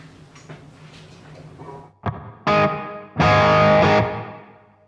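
Electric guitar strums and chords through a Strymon BigSky reverb pedal on its room reverb setting, drenched in heavy effects, starting soft and murky, then louder bursts ringing out near the end.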